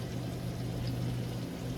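Water pours steadily into a jambalaya pot at a festival cookout, a continuous close rushing splash lasting under two seconds with no talk over it.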